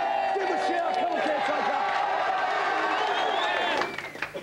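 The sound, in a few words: studio audience cheering and applauding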